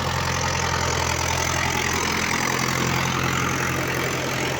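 A tractor engine idles steadily and close by, a continuous low rumble with a faint knocking pulse and no voices over it.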